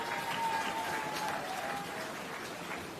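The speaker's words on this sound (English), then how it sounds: "Please give him a round of applause" Faint, fairly distant applause from the crowd at an outdoor urban centre groundbreaking ceremony, a soft continuous patter of clapping that thins slightly toward the end.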